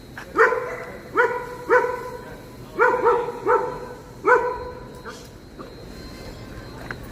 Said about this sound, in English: You got dogs everywhere?